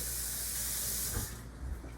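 Water poured into stuffed cannelloni shells makes a steady, close broadband hiss for just over a second, then fades into softer sloshing and a couple of faint knocks.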